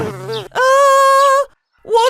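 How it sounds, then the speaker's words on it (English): Cartoon bees burst out in a loud, steady buzz lasting about a second, framed by brief squealing cries before and after in an animated fairy-tale scene. "Bees! Let's run!"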